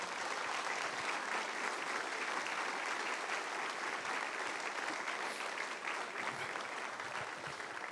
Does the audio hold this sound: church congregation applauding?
yes